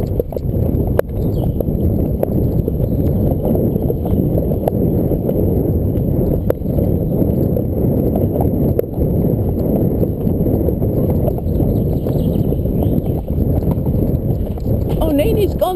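Horse hooves canter steadily on the ground, a continuous rhythmic thudding heard close from the rider's position, with light rushing wind noise throughout.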